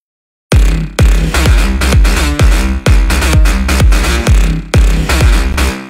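Electronic synth chords stacked over a deep sub bass and washed in Valhalla reverb, from a studio remix of a track, pumping in a loud, steady rhythm of repeated stabs after a brief silence.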